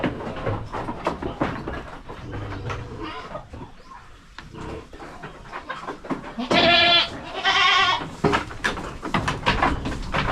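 Goats bleating loudly and repeatedly nearby, several voices overlapping, with rustling and farmyard noise in between.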